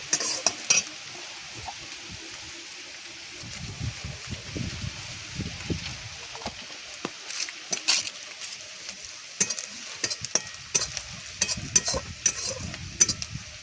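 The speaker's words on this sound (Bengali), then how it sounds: "এবার হলুদ গুঁড়ো দিয়ে নেড়ে চেড়ে নেব।" Fried onions stirred with turmeric powder in a pan during village-style cooking: a steady sizzle and crackle with irregular scraping and clinking strokes from the stirring, close up, with no talking.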